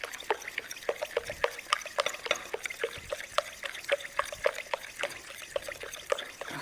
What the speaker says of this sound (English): So what you want to do is just stir it up real good.